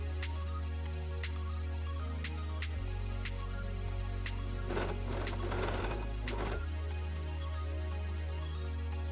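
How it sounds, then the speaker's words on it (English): A sewing machine hums steadily up close while sewing a doll outfit for a ball-jointed doll, with light ticking stitches and a short burst of busier rattling midway. "All that's left to do now is hem the inner seam and sew away."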